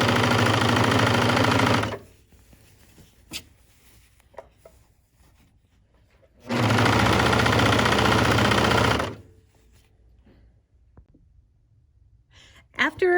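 A bernette 64 serger runs a rolled hem along a long fabric strip in two loud, steady bursts of fast whirring stitching, each lasting a couple of seconds, separated by quiet handling sounds.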